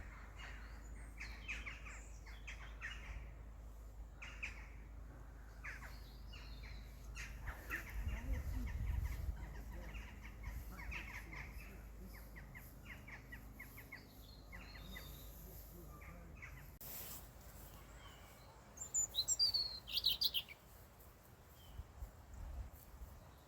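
Birds chirp and call among the trees on a countryside nature walk, scattered short tweets near and far over steady low outdoor rumble, with a brief louder burst of calls late on.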